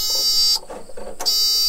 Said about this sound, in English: We're gonna turn the key and see if we get anything. Okay, same beep we were getting.